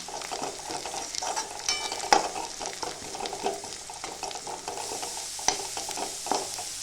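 Onions sautéing in a pan for chicken fry, a steady sizzle with scraping stirs and occasional sharp clinks of the spoon against the pan, close and moderately loud with no talking.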